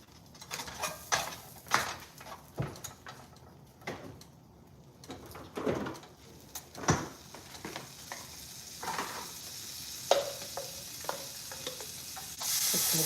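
Butter sizzling in a pan for homemade potato salad, a soft frying hiss broken by irregular clinks and scrapes of stirring and handling, fairly quiet and close.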